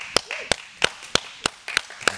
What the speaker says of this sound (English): I really want to do another live round of applause for all this work.